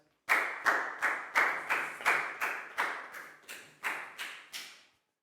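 Steady, evenly spaced claps, about a dozen in a row at an even rhythm, fill a classroom during a Year 4 English lesson as a student is applauded; close and fairly loud, with no talking.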